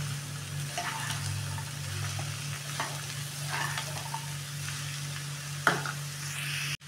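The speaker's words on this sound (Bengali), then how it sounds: "এটাকে আমি নেড়ে নেব" Chopped ash gourd and sweet pumpkin are stirred in a hot frying pan for a Bengali mung dal ghonto, giving a continuous close sizzle with scraping strokes and one sharp knock near the end.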